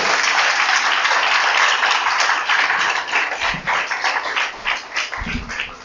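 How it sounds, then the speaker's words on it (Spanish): A church congregation claps together in a sustained burst of applause that gradually thins into scattered claps. "¿Cuántos dan un aplauso a Dios por eso?"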